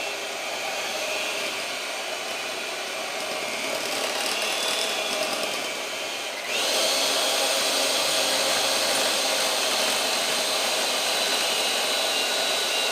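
An electric hand mixer whirs steadily through low carb double chocolate chip cookie batter, a loud continuous motor drone that steps up in pitch and intensity partway through, with no talking.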